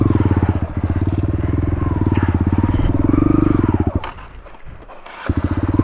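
A heavy dirt bike engine revs and labors loudly while riding through a rocky creek, a steady throbbing drone with scraping and crunching, dropping briefly before picking back up.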